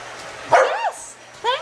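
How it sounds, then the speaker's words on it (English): A dog barking indoors, with two short, sharp, fairly close barks or yips separated by a brief pause. "The barking isn't from confidence or aggression."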